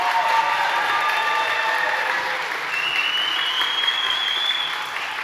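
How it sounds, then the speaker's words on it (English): An audience at a high school choir spring concert claps in a sustained, even wash of applause that holds steady for several seconds and tapers slightly near the end. "Let's give them all a round of applause."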